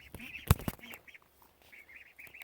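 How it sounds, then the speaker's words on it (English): Ducks in a farm's duck enclosure quacking in short nasal bursts, several calls close by over a quiet late-afternoon background, with one sharp knock partway through. "you might be able to hear some ducks"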